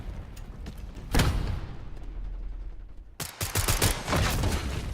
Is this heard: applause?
no